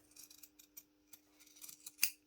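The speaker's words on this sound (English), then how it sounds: "just snip into it" Scissors snip into the curved seam allowances of a fabric school blazer, giving a string of short, crisp, close cuts with a sharper snip near the end.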